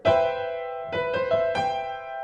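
A seventh chord in third inversion rings out, then its notes are struck again in several quick attacks, sustaining and blending into a full, resonant harmony.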